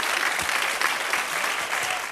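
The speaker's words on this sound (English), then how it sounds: "Give Dan a big round of applause." Studio audience applause on a game show, a dense, lively roar of many hands clapping continuously at close range.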